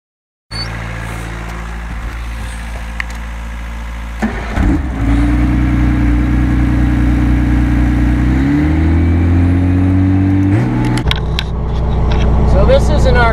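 A fertilizer spreader truck working in an apple orchard runs with a steady low engine drone, shifting pitch as it revs and idles, close and loud throughout.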